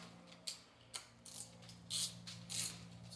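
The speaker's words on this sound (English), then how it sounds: "we can actually start taking the bolts off, which are going to be 4 bolts right here" A 6 mm Allen wrench backs out the rear fender bolts on a 2023 Indian Challenger motorcycle, giving a few sharp metallic clicks followed by softer ratcheting turns, close up in a quiet space.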